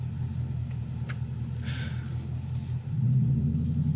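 Low engine rumble from a 2021 Ford Mustang 5.0 V8 idling steadily, then swelling louder near the end as the throttle opens slightly, no voices over it.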